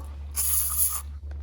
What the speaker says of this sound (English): More loosening oil.